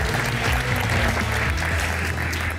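A studio audience on a Turkish TV quiz show applauds in a dense, sustained wash of clapping, loud and even, with music faintly underneath.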